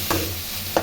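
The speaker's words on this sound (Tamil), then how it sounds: "வெங்காயம் நல்லா வதக்கிடுச்சு" Onions sautéing in a pan for an egg dish, a steady low sizzle with two brief stirring scrapes near the start and end, close and fairly quiet, with no one speaking.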